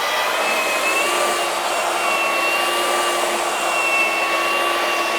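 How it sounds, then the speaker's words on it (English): DeWalt 20V XR cordless 3x21 belt sander running on a piece of 3/4-inch oak, a steady continuous motor whine with belt hiss, close and loud, unbroken for the whole stretch with no talk. "We have a piece of 3/4 oak here. Let's just round this over at the end"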